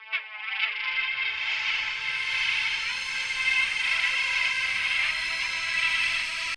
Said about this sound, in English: Up next, I've got this cool spooky growl sound that's from my Roland